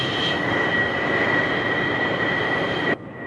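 Grumman F-14 Tomcat jet taxiing on a runway, a loud steady turbine roar with a high whine held throughout that cuts off sharply near the end.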